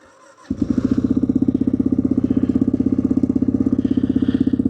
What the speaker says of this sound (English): it started up. Had to use the choke, cranked right up